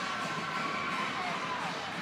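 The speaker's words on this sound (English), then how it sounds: "You can hear the Manti crowd." Manti basketball fans cheer after their 3A boys state championship win over South Sevier at the 2018 state tournament, a steady, dense crowd roar that holds at an even level throughout.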